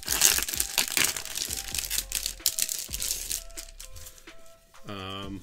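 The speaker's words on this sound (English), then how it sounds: "Let me just open this real quick so it's not crinkling the whole time." Plastic wrapping crinkles and crackles up close as a boxed art print is unboxed, with a quick burst of dense rustling and tearing over the first few seconds that then thins out, and a voice talks near the end.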